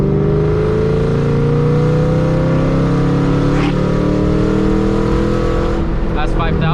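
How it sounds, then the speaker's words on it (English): Supercharged Mustang Shelby GT500 with a smaller pulley and tune revving steadily in second gear in a slow climb from 2500 to 5000 rpm, a loud, rising engine drone that holds throughout and ends in a quick throttle blip near the end. "Got to do a second gear 2500 to 5000 slow climb."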